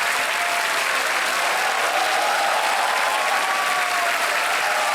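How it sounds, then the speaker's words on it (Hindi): A quiz-show studio audience claps loudly and continuously, a thick unbroken wall of applause filling the whole stretch, with a faint hint of cheering mixed in. "तालियां बज जाए इनके लिए,"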